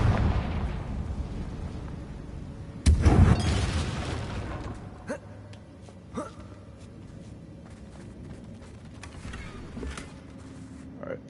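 A Confringo fire spell bursts in the Hogwarts Legacy video game, one heavy booming blast followed by a rumbling tail and scattered smaller crackles and pops.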